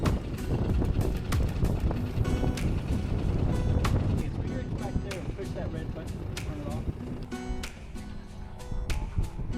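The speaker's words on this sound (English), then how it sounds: "we were ready to enjoy the sounds of the wind and waves crashing against the hull." Wind buffets a sailboat while waves slap against its hull, a loud, rushing, gusty roar with irregular knocks and splashes, under some talking.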